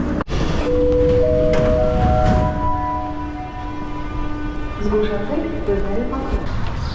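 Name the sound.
Yerevan metro train ride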